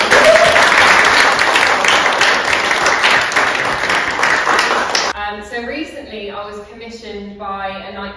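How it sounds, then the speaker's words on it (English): An audience at a women's rights writing event applauds loudly, a dense steady wash of clapping that fades after about five seconds as a speaker's voice takes over. "Can we have a massive round of applause"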